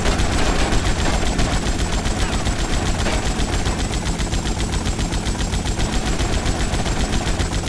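Dense, continuous automatic gunfire in Grand Theft Auto Vice City rattles loudly and without pause, with rapid overlapping shots forming a constant barrage.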